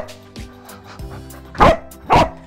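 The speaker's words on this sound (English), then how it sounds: "Why are you barking?" A dog barks at a park, several sharp, close barks spaced apart, the last two loudest, with softer yips and whimpering sounds between them.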